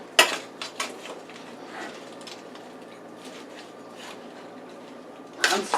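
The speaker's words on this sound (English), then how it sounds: "I'm stirring it because all my seasoning is on the top and I want to make sure it gets throughout." A spoon stirs linguica sausage stew inside a Power Pressure Cooker XL pot, giving scattered metallic scrapes and clinks with a louder clatter at the start and end, close by and without talk.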